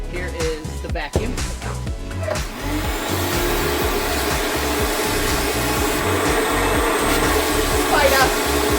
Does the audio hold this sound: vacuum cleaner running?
yes